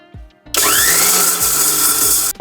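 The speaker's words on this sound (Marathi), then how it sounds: "वेलची ग्राइंड करून घेते वेलची पूड बनवायची ना आपल्याला" Electric grinder whirring as it grinds cardamom pods into powder, a loud steady motor roar that starts abruptly after a brief pause and runs nearly two seconds before stopping, close and alone.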